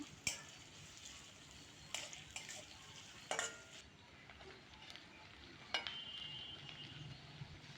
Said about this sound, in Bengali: এখন আমি ঝাল পেঁয়াজগুলো করবো কি একেবারে বাদামি কালার করে ভাজবো